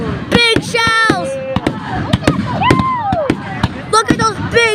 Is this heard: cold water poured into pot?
no